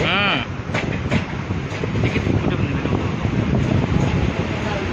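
A train pulls into Chhatrabhar railway station in Sonepur district, heard from on board as a continuous rumbling roll with wind buffeting the microphone and a few sharp knocks.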